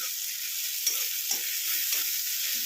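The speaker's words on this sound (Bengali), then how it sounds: "এবার এটাকে একটু সামান্য ভেজে নেব, আঁচটা জোরে দিয়ে দিলাম।" Pumpkin and fenugreek leaves fry in a pan over high heat, a steady bright sizzling hiss with soft stirring scrapes and no voices.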